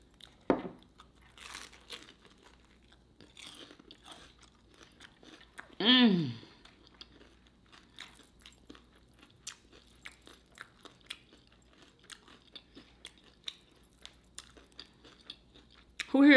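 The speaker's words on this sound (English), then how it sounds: "I know some people just want to hear the crunch of these tacos." Crunching and chewing on deep fried chicken and cheese tacos, with scattered crisp bites and mouth noises close to the mic, quiet between bites, and a brief voiced sound partway through.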